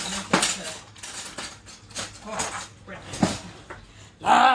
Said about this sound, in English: Let's get a nice sharp knife for this.